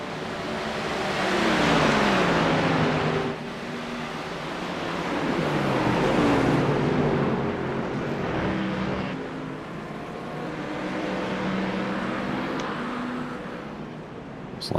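Loud GT3 race car engines roar past in waves during an endurance race at The Bend, rising and falling in pitch as they approach and pull away, with no talking.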